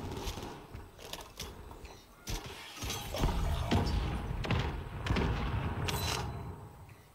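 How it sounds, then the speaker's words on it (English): Cluster bomb explosions in Call of Duty: Warzone land as a string of heavy thuds and cracks, several close in quick succession, then a rumbling, noisy spread as more blasts follow. "Oh shit, cluster bomb, cluster bomb."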